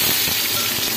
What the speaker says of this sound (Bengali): জিরে তেজপাতা দিয়ে দিয়েছি তেলে, এই পেঁয়াজটা দিয়ে নিব।